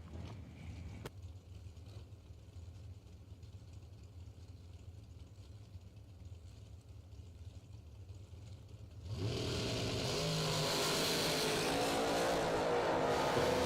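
A loud race car launches at a drag race. A low idling rumble runs for several seconds, then a sudden, sustained, roaring blast of engine noise continues to the end.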